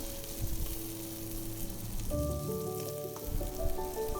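Mushrooms sautéing with salt in a hot pan: a steady, dense sizzle and crackle continues throughout, with faint stirring and scraping noises mixed in and no voices.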